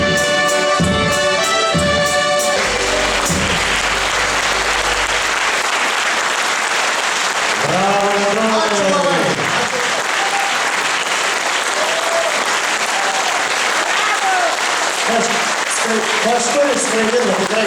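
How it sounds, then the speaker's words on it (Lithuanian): Audience applause after a folk band's performance at a traditional folk kapela festival, opening with music and then sustained, dense clapping that continues loudly throughout, with a voice speaking over it in places. "aš manau, kad iš aplodismentų viskas aišku"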